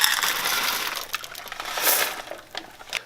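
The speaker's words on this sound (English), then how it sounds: "we're going to go ahead and add 1/2 cup of Lily's chocolate chips" Half a cup of Lily's stevia-sweetened chocolate chips poured into keto maple bacon cookie dough, a quick close rattling patter of small hard pieces tumbling into a bowl, then a few scattered clicks, with no talking.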